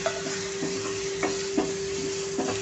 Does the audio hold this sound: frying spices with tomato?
yes